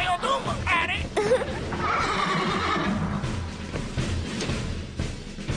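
A horse in a Doraemon cartoon gives a loud, quavering whinny, followed by further nickering and rustling movement at moderate distance.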